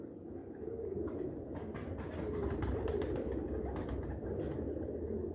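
Faint, soft cooing of breeding pigeons, including teddy pigeons, repeats in low murmuring calls over a steady background rumble.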